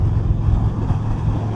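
Steady roaring wind buffets the microphone as a motorcycle cruises at about 120 km/h on a highway in a very windy area, a dense constant low rush with no voices.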